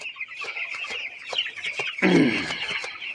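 Broiler chickens on a farm clucking steadily in a dense flock chorus, with repeated short calls close by and a louder burst of flapping or scuffling near the end.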